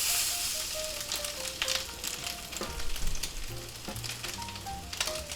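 Eye of round steak searing in a cast iron skillet, a loud, close, continuous sizzle with crackling spits and a few tonal whines mixed in, no voices.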